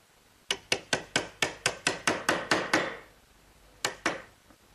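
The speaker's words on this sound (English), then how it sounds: "So I'll clean out that area with a nice sharp chisel." A sharp chisel is struck repeatedly to clean out a square corner in wood: about a dozen crisp, evenly spaced taps in quick succession, close and clear, then a short pause and two more taps.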